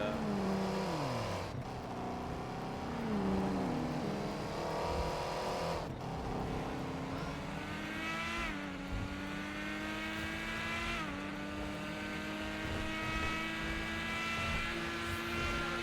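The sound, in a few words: modded car engine sounds in video game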